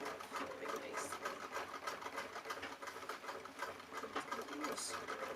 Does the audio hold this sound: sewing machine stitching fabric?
yes